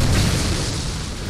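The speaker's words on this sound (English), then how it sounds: "you'll get a bow and, believe it or not, a brand new gun." A loud, dense blast from a new gun in Ninja Gaiden 2 Sigma fills the moment with a heavy booming roar that slowly eases off.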